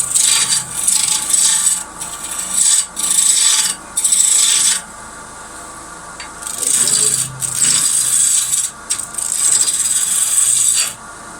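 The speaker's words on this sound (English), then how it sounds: "lifting up so it's cutting, so we're getting all these shavings over the top." A woodturning tool cutting green wood on a lathe, throwing long stringy shavings: close, loud rasping bursts of a few seconds each, separated by short quiet pauses as the cut starts and stops.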